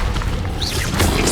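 Spells are cast in the video game Hogwarts Legacy, producing a short, loud burst of booming magical impacts with whooshing, crackling effects.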